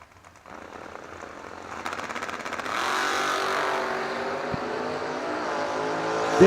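Drag racing cars, a 1976 Vega wagon against an S10, launching off the line at a bracket race, engines rising from idle into a loud sustained roar that holds steady.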